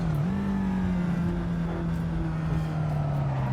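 A racing car in the game Assetto Corsa Evoluzione drives through a turn, its engine holding a loud, steady whine with a slight rise at the start and a gentle fall in pitch as it eases through.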